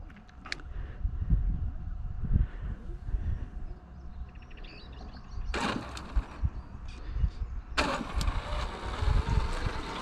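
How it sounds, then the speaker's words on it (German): A Primal RC Raminator brushless monster truck with twin motors runs in low-speed gear, giving an uneven mechanical whir and rumble with two sharp louder surges partway through, birds faint in the background. "This is the difference between a clutch and a direct drive with the brushless motors."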